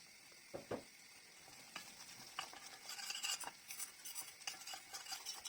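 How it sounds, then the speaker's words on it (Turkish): Flour being stirred into melted butter in a pan, a quiet scraping and stirring with soft sizzle, starting sparse with a couple of distinct scrapes and then growing busier and more continuous toward the end. "Tereyağı eridikten sonra unumu ekledim ve karıştırıyorum."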